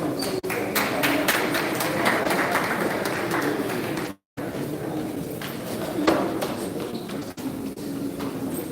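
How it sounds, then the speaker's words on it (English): A sustained round of applause from an audience at an online clan awards event, dense steady clapping that runs close and loud for the whole stretch with only a brief cut of silence midway. "Let's give them a round of applause."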